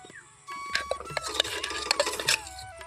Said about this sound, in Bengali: গ্যাসটা বন্ধ করে দিয়ে আমি এই দুধের মিশ্রণটাকে একটু ভালো করে নাড়াচাড়া করে নিয়েছি